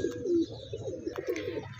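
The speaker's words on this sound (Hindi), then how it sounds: "ये बड़ा कबूतर है माशाल्लाह" A large pigeon offered for sale in a breeder's setup coos in low, throaty, rolling phrases, close and fairly steady across the short stretch with no one talking.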